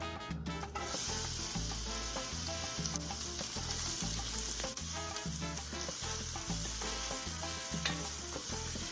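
Onions sizzling with flank steak in hot oil over high heat, a steady close frying hiss with occasional stirring. The hiss runs under a loud, continuous backing music track.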